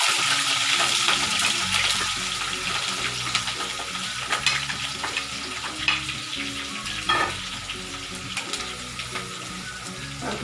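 Green chilli and ginger sizzle and fry steadily in hot oil with popped mustard seeds for a fish pickle, a loud continuous crackle with occasional stirring clinks, no talking.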